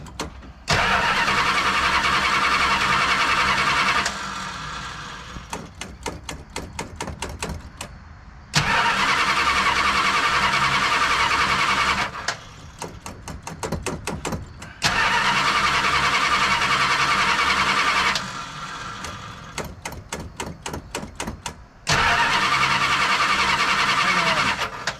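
A car engine cranks in repeated bursts of several seconds each, with clicking pauses between attempts, loud and close without catching, while a fuel leak is being watched for.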